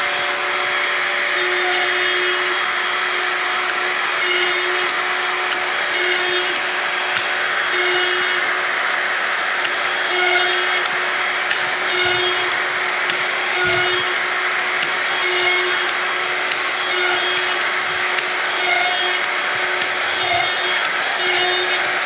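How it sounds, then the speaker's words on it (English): A Festool router whines at a steady high pitch for a long stretch, with brief dips as the bit cuts into wood. "Now I start the router and drill."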